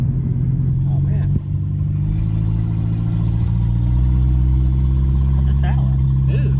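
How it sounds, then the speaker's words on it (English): Turbocharged Hemi car engine running close by with a deep, steady exhaust drone and slight turbo whine, while several people talk over it. "All I can hear is exhaust and turbo"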